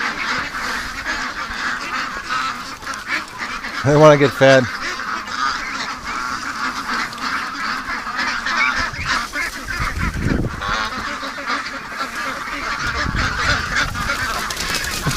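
Ducks at a creek quack and honk in a brief loud burst of calls near the microphone, with a person talking over the steady background.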